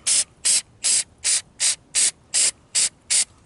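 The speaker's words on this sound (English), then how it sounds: "if you spray a little starting fluid" Starting fluid sprays in nine short, even hissing bursts into the engine of a low-compression Kawasaki Bayou 220 ATV, each burst crisp and close, spaced with brief pauses.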